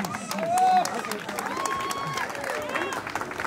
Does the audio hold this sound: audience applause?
yes